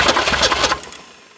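A 1978 Ford Fairmont that sat for 35 years cranks with its choke closed, giving a brief loud churning engine burst for under a second before it quickly dies away into quiet.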